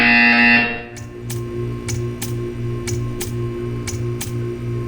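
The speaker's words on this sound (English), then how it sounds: "You will hear a buzzer." A loud buzzer blares briefly in Portal 2, then gives way to a sequence of evenly spaced clicks or beeps over a low pulsing hum.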